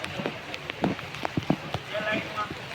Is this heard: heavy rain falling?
yes